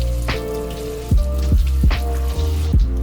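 Soaked soybeans are rinsed under running water, with a steady close splash and several distinct plopping drops and swishes over a few seconds.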